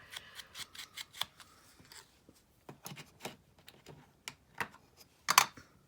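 Scissors snip fabric edges along a template, a series of quiet, close crisp cuts and rustles spaced irregularly, ending with a louder snap, with no voices.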